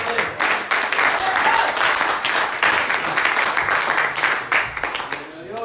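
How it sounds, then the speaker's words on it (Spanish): A church congregation claps during a service, a dense round of applause from many people that swells and dips in waves, with some voices mixed in. "Denle el aplauso al Señor."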